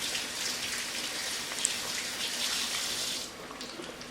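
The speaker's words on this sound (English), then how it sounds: "Wash my hands here." Tap water runs steadily into a sink during handwashing, a close, even hiss with a small splash, tapering off near the end.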